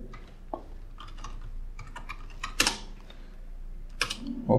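A command is typed on a computer keyboard in a Linux session, with quick, close key clicks in uneven bursts and a couple of louder taps near the end.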